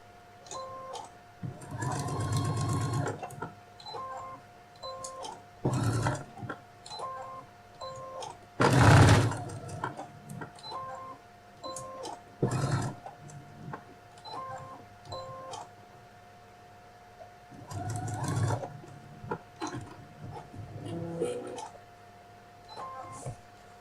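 A sewing machine stitches a seam all the way around a fabric phone case, running in several loud bursts separated by pauses, with a voice talking quietly in between.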